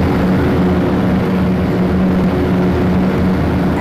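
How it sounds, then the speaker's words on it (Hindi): A supercar engine in a mobile car-selling game idles at night with a steady, loud, low droning hum and a constant tonal whine, holding even throughout without distinct revs. "आप लोग को ये इंजन की साउंड कैसा लगा"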